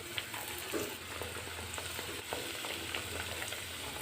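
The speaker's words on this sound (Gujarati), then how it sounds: "આપણે એકદમ ઓછા ઢેબરા એડ કરી અને તળવાના છે" Dhebra made from millet flour and grated bottle gourd frying in hot oil, a steady dense sizzle and bubbling throughout with small crackles, close and fairly loud, no voices.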